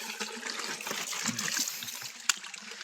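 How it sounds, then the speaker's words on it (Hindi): Water from a tubewell pours and trickles into a bottle outdoors, a close, bubbling stream with splashy gurgles and a sharp clink near the end. "बोतल भर रही पानी"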